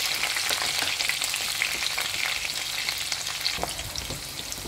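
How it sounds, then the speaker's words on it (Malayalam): Green chillies sizzle in hot oil with a little garlic, a dense, steady crackling hiss that stays close and constant throughout, with no talking. "അതൊന്ന് ചൂടായി കഴിഞ്ഞാൽ നമുക്ക് പച്ചമുളക് ഇട്ട് കൊടുക്കാം"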